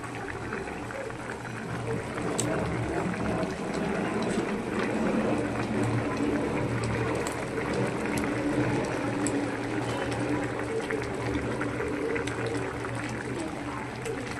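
Thin fish curry broth with hilsa, eggplant and potato bubbles steadily in a pot, a continuous soft simmering hiss and burble held for the full span, with someone speaking over it.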